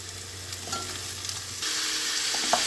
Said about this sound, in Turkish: Şimdi arkadaşlar 1 kilo kabağımızı bunun içine ilave ediyorum. Hepsini beraber koyacağım. Alt üst edeceğim.